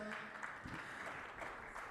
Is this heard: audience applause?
yes